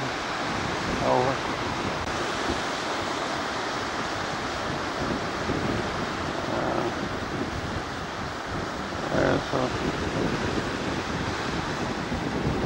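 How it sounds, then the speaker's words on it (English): Ocean surf rolling onto a Port Angeles shore under steady wind, with whitecaps offshore; a continuous broadband wash with wind rumble on the microphone, swelling slightly near the end, with no speech. "Waves coming in pretty good."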